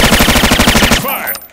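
Rapid automatic gunfire in the 2006 PC game Scarface: The World Is Yours, a loud, dense burst of evenly spaced shots that cuts off after about a second, with a brief echoing tail.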